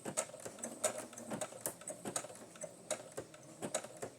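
Sewing machine stitching through paper for a junk journal, a fast run of quiet, crisp ticking needle strokes that continues steadily with slight pauses and no voices.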